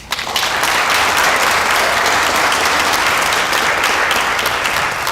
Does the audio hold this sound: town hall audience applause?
yes